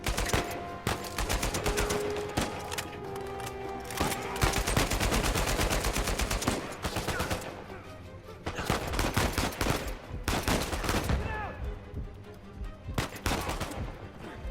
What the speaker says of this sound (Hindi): अबे गोलियां पड़ने वाली हैं